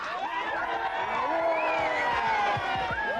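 Thousands of supporters cheer and shout outside an airport terminal in 1987, a dense, steady crowd roar with whoops and raised voices throughout.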